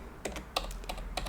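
Keys clack on a new computer keyboard in short, quiet bursts of typing, a few taps at a time with brief pauses between.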